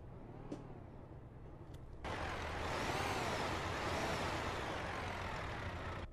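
A Volvo FH 2014 truck engine in Euro Truck Simulator 2 fires up with a short air-brake-like hiss, then settles into a loud, steady diesel rumble that holds for several seconds.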